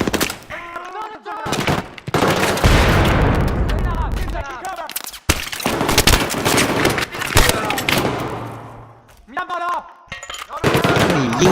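Rapid automatic gunfire and heavy booms from Battlefield 3 combat, including shots punching through glass, burst loudly in dense volleys with brief lulls between.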